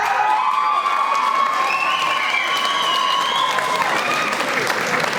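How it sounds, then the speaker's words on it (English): A school audience claps during a principal's speech, with steady applause mixed with cheering and some children's shouts, loud and sustained throughout. "You stole the thunder by giving a clap,"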